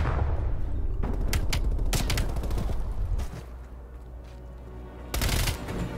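Gunfire in Call of Duty Black Ops Cold War, with dense bursts of rapid shots and a few heavy booms over a rumbling game backdrop, loud and close.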